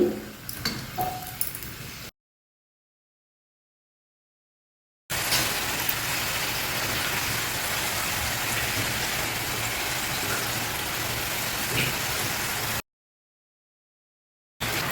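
Kova kajjikaya deep-frying in hot oil over a medium flame, a dense, even bubbling hiss held steady for several seconds between stretches of silence.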